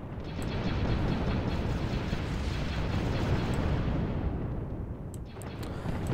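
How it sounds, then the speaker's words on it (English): Continuous heavy weapons fire and explosions from a space battle in the Sins of a Solar Empire strategy game, a dense rumbling roar with scattered sharp bursts and no talk. "Let's have everyone focus fire on that dreadnought."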